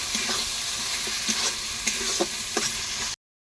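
Tomatoes being stirred into mushrooms frying in a pan, a steady broadband sizzle with a few sharp spoon scrapes and knocks against the pan, close and fairly loud, no talking.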